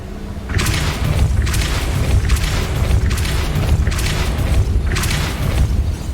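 A Depulso spell blast in Hogwarts Legacy lands as a series of loud, deep booming thuds, roughly five heavy bursts in close succession over a continuous low rumble.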